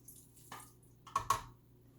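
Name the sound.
water being added to buttercream in a mixer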